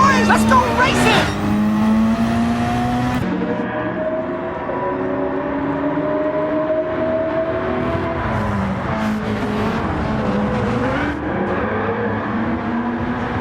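Race cars launching from the start of a race in Gran Turismo, engines revving high and rising in pitch through gear changes, with a commentator talking over the roar.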